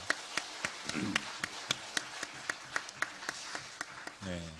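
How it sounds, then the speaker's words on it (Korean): A church congregation claps steadily to encourage the children at a worship service, with sharp, evenly spaced claps ringing out in a regular rhythm before a voice starts at the end. "격려의 박수 한번 보내주시기 바랍니다"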